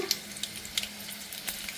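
Light sizzling and crackling of a tempering with dried red chillies in hot oil, with soft sharp pops scattered through a quiet background.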